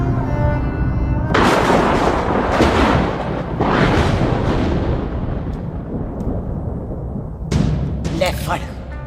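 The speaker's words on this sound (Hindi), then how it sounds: "मार दी सारी गोलियां उसकी छाती" Heavy gunfire in a film scene, rapid bullets fired in long loud bursts with booming reverberation, pauses between volleys and a final short burst, mixed with dramatic movie sound.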